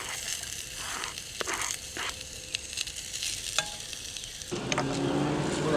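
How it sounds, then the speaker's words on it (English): Onions and garlic fry in hot olive oil in a canteen cup, crackling steadily with several stirring scrapes, before the sizzle swells louder near the end. "we're going to throw in some onions and some garlic"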